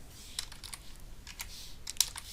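Quiet, close keystrokes tap on a computer keyboard as course registration numbers are entered, in a few short bursts with brief pauses between them.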